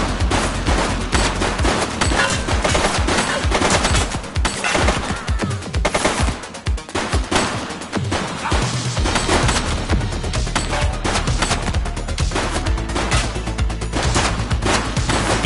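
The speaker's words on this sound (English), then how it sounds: "Shots fired!" Rapid, sustained gunfire from a police shootout at a suspect, loud and close, with dense automatic bursts and volleys of shots, a brief thinning midway, then heavy firing again.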